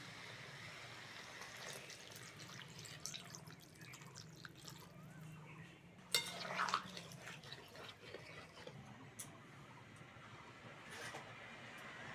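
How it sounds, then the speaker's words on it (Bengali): Water poured into a pot of potato curry (aloo dum), a faint, low background wash with a brief louder splash midway, close and without voices. "এবার দেবো জল"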